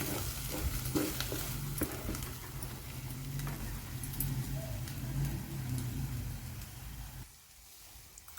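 Gravy sautéing in oil in a pan while paneer is cooked, a steady close sizzle with occasional stirring scrapes, dropping abruptly near the end.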